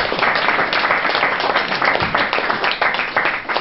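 Dense, steady applause from a live audience at a Norwegian comedy show, continuous and fairly loud throughout with many overlapping claps and no clear talk on top.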